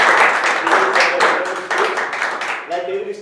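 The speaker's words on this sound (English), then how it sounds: "give a big round of applause to Toastmasters" An audience at a Toastmasters meeting claps in a sustained round of applause, dense overlapping hand claps with voices mixed in over them.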